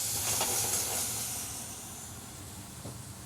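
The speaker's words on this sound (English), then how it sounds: "we'll saute the rice up with the vegetables, add a touch of white wine" White wine poured over sautéed Italian risotto rice and vegetables in a restaurant kitchen pan gives a loud steamy hiss that gradually fades to a softer steady sizzle.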